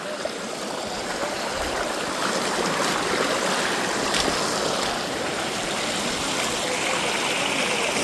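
A Konkan river fed from a village upstream flows at normal level, a steady broadband rushing and babbling of water, close and continuous with no voices.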